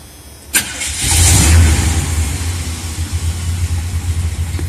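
A cold truck engine cranks and catches, surges in a loud rev, then settles into a steady, rumbling idle, close and alone with no voices.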